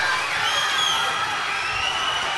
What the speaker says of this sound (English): The crowd's on their feet here as we go into the dying seconds.